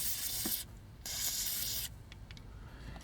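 Cure 556 penetrating oil, a WD-40-style lubricant, hisses from an aerosol can in two long, close bursts with a short pause between, sprayed onto a Takara G1 Transformers Protectobot Blades toy being taken apart.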